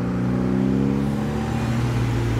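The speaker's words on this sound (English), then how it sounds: "Still got loads of cars arriving, actually, including the Fiesta." A Ford Fiesta arrives at a modified car meet, its engine note droning and shifting close by as it rolls in, loud and steady with no talking.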